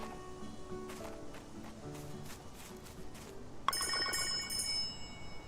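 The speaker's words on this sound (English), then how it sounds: "You thought we were done ringing this bell." A bell in Story of Seasons Grand Bazaar rings in a series of bright tones, then sounds a sharper, louder burst of ringing partway through, over light background sound.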